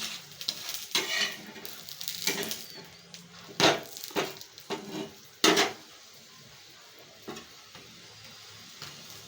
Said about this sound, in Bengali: এবার এটাকে একটু তেল দিয়ে ভালো করে ভেজে নিতে হবে।